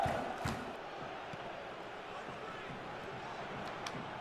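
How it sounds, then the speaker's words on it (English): A stadium crowd in the football video game PES 2014 makes a steady roar and chant, with a few brief louder swells, under a commentator's voice. "Crowd trying to lift us like mad here."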